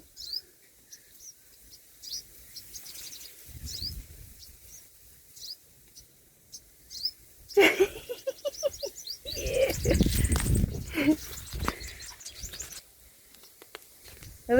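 House sparrows chirp in quick, scattered bursts, some close and bright, others fainter, with a busier flurry of chatter near the end.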